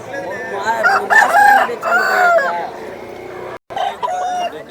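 A rooster for sale at the Vijayawada rooster market crows loudly and close, its long strained call dropping out briefly before another crow, with clucking and market noise around it.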